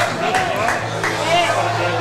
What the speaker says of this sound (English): There's a lot of noise here, guys. It's hard to hear.